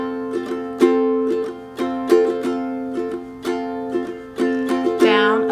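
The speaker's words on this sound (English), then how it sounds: "So I'm going to demo what that strumming pattern is going to sound like" A ukulele strums chords in a steady down-up pattern, with bright accented strokes falling in a regular rhythm. It is played close and clear, with no talking over it.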